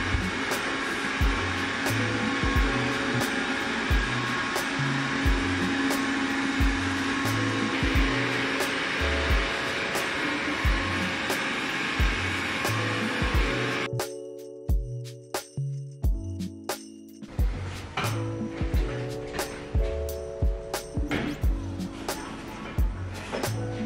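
A robot vacuum cleaner runs indoors at home with a steady, loud whirring drone and regular rhythmic pulses; partway through, the hum drops away and gives way to quieter, choppy mechanical noise.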